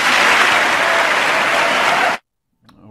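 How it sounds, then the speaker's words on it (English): Loud, dense applause from members of Congress fills a large chamber, sustained and even before stopping abruptly, followed by a moment of silence and faint talk. "huge applause there by Congress"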